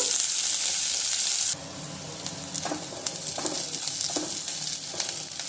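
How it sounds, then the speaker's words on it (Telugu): Asafoetida frying in hot oil until brown: a steady, bright sizzle with scattered crackles and pops. A loud hiss at the start drops to a lower, even frying noise, and no one talks. "దాంట్లో కొద్దిగా ఇంగు వేసుకున్నాం. వేసుకుందాం. కొంచెం బ్రౌన్ వచ్చేంత వరకు వేయించుకుందాము."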